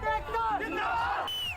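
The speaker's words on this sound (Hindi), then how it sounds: "किसान एकता जिंदाबाद के आप नारे सुन सकते हैं" Farmers at a protest chant slogans together, a brief burst of raised crowd voices rising and falling in pitch, moderately loud and close.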